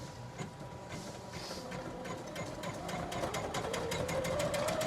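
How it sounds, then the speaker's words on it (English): Janome MC230E embroidery machine sewing a satin stitch on a beanie hat, a fast steady mechanical needle rhythm with a rising motor whine, close and continuous. "It should be doing the satin stitch this time now."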